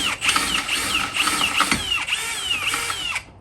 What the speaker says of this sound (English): He's gonna finish it up by using the step drill bit from underneath.